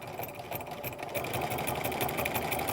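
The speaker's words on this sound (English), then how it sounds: "I'm just going to go ahead and start sewing right next to that center" A sewing machine stitching across thick layers of fabric and foam for a nesting basket, running steadily close up as a fast, even mechanical whir that grows slightly louder partway through.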